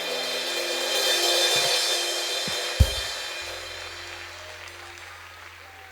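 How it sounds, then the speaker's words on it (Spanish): Applause from a church congregation rises as a broad wash of clapping, then slowly thins and fades, with a single sharp knock partway through and a low hum underneath. "demasiados aplausos, ¿no es cierto?"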